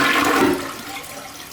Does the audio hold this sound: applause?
no